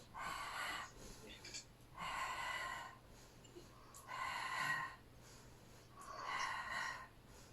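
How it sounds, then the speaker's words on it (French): Deep rhythmic breaths in and out during a Pilates exercise, four slow breathy pulses of airy rushing at steady intervals, close and soft against quiet background. "Expire, expire, inspire,"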